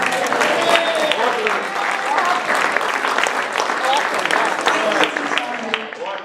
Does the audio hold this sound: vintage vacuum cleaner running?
no